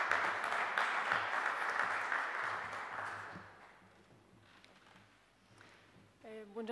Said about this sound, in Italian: che salutiamo con applauso